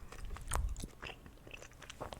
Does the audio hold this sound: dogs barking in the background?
no